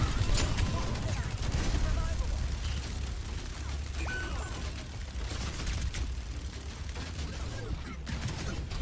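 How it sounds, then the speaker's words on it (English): Bastion's turret-form gunfire in Overwatch on the Junkertown map, a steady stream of rapid shots and impacts against walls under game music, with a commentator talking over it. "it feels like you're just going into turret form and shooting the walls"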